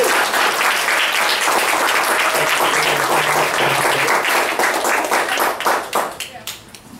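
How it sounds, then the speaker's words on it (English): Audience applause for panel speakers at an exhibit closing event, a dense steady wash of many hands clapping that holds strong for about six seconds before thinning out and trailing off into scattered claps. "can I get a round of applause for our speakers?"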